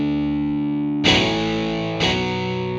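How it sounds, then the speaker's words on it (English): Distorted electric guitar power chords from the EastWest Composer Cloud amp long patch: two heavy, sustained chord strikes about a second apart, each ringing out with a thick, fuzzy amp tone, and no talking. "Power chords is our next instrument. 7 different versions there. This is amp long."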